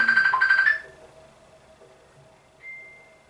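A mobile phone ringtone plays a bright, tonal melody for under a second, then cuts off. A single faint electronic tone sounds a moment later in a quiet room.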